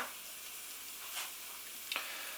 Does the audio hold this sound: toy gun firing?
no